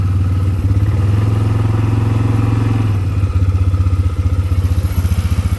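Four-wheeler ATV engine running loud and close, a steady chugging idle that briefly changes pitch before settling back into a throbbing rhythm.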